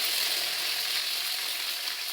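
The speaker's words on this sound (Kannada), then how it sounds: "ನಾವು ಇದಕ್ಕೆ ಒಗ್ಗರಣೆ ಹಾಕೊಳ್ತಾ ಇದ್ದೆ ಹಸಿಮೆಣಸು ಮತ್ತು ಸಾಸಿವೆ ಆಮೇಲೆ ಕರಿಬೇವು ಸೊಪ್ಪು ಒಗ್ಗರಣೆ ಹಾಕೊಳ್ಳೋದು" Green chilli, mustard seeds and curry leaves temper in hot coconut oil, giving a steady, loud, close sizzle and crackle that holds unbroken for the whole stretch with no talking.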